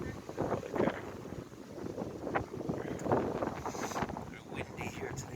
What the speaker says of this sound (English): Windy here today as well.